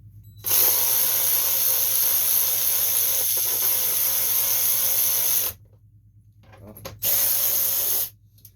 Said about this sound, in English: so now we gotta take these bolts off right here. They're 3/8 socket.